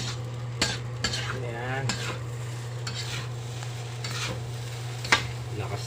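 Fried rice ingredients are stirred in a pan, metal utensil scraping and tapping over a constant sizzle and a steady exhaust fan hum, with one brief spoken word.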